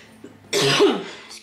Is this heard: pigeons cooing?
no